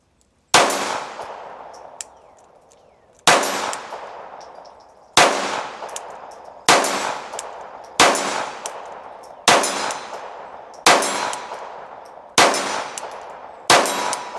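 A Ruger SR22 pistol in .22 Long Rifle fires CCI Mini Mag hollow points at steel targets, with nine sharp, evenly spaced shots each followed by a ringing metallic clang that decays.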